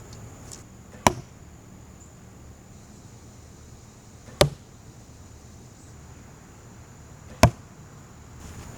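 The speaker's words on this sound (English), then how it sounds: "We'll see how they impact the target" Three arrows from a weak-spined set striking an archery target, each a sharp isolated thwack spaced a few seconds apart against a quiet background hiss.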